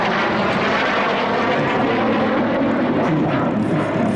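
A Cessna A-37B Dragonfly twin-jet attack aircraft passes at a Warbirds airshow in Temora, its steady loud roar filling the whole stretch without a break, no voices over it.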